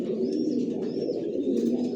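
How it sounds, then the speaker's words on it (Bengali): Original Johnson-line racer pigeons fill a loft with dense, overlapping coos, a constant low warbling chorus from several nearby birds, dotted with a few thin high chirps. "আমার লফটে সব একই লাইনের কবুতর পালি, জনসনের লংয়ের, অরিজিনাল রেসার"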